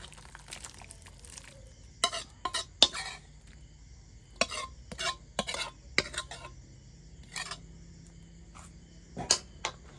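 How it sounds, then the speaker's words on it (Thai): Pork offal being stir-fried in a pan, with a series of sharp scraping and clinking strokes of a spatula against the pan, irregular bursts over a quiet background. "คั่วเครื่องในหมู"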